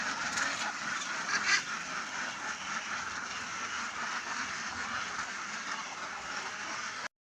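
Khaki Campbell ducks on a farm pond in Assam quack and honk in a continuous noisy chorus, several birds calling at once, fairly near and steady throughout.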